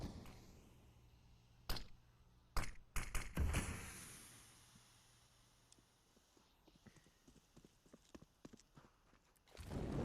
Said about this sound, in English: hearing a few footsteps and a lot of noise from mid